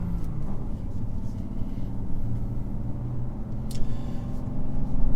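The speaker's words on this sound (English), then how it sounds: "let's go and find some decent roads and take it for a drive" A BMW M2 G87 driving on a road, a steady low engine rumble with tyre and road noise that swells slightly near the end, heard from inside the car without talk.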